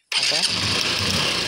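A Honda Unicorn motorcycle with a roadside starting problem and a retuned carburetor jet fires up on the electric self-starter, then settles into a loud, steady running engine close by.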